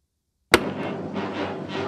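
A single sharp report from a Savage MKII TR rifle firing Eley Match ammunition at a target, loud and close, starting abruptly from silence and followed by a sustained noisy tail.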